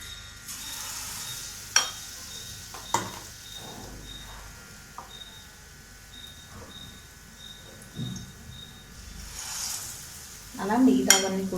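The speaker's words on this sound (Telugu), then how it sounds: "ఇప్పుడు ఇందులో పన్నీర్ ముక్కని ఇందులో డిప్ చేసుకుని దీంట్లో వేసుకుందాము." Paneer pakoda pieces dipped in batter and dropped into hot oil, giving a soft steady sizzle broken by a few sharp utensil clinks and knocks, with a louder burst of frying and clatter at the end.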